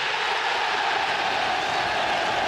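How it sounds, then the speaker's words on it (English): Travelling Middlesbrough supporters cheer at a 1993 Premier League football match away at Aston Villa, a steady, hissing wash of distant crowd roar and applause with no individual voices standing out. "Something for those travelling fans to cheer about"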